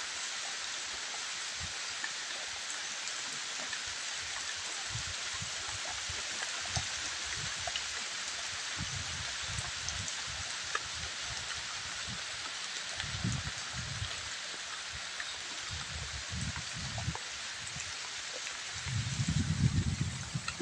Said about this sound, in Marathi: आलेला आहे पाऊस आणि पडत आहे आता पाऊस